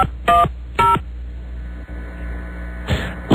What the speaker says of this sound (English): I was just trying to dial another number from that line.